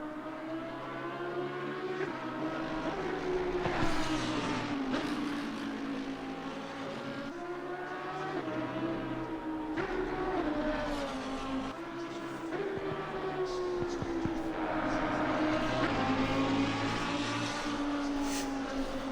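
GT race cars in Assetto Corsa Competizione lap Suzuka circuit, engines droning and rising and falling through gear changes over a long stretch, loud and close as if heard on board, with no voices.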